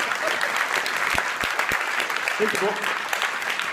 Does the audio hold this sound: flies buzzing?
no